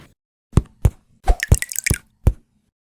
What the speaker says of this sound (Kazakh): Су құю керек.